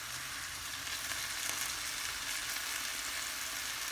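Chicken skewers fry in a pan while being turned, a dense, close, continuous sizzle that stays steady and loud throughout with no voices.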